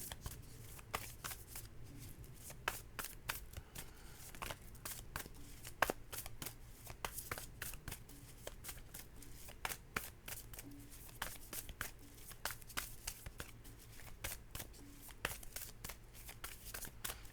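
Tarot cards being shuffled during a reading, a rapid, steady flutter of crisp card riffles and slaps running throughout, soft and close, with no voices heard.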